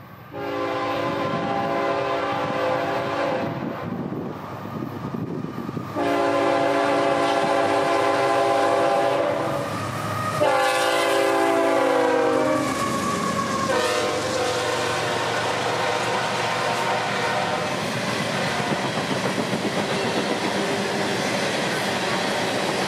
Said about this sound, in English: our southbound potash train B241 would take 4 days to roll south, now seen in some very good afternoon light in Bushnell